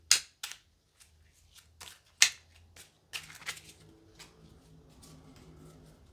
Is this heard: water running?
no